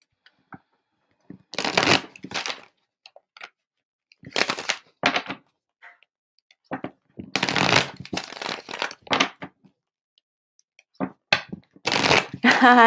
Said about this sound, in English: Get a few more clearing shuffles.